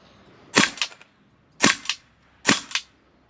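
An HK MP7 A1 gas blowback airsoft gun in 6mm fires three sharp close bursts on full auto, each a quick double or triple crack with short pauses between, and no talk.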